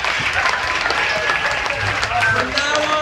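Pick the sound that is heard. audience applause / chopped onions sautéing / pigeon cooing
audience applause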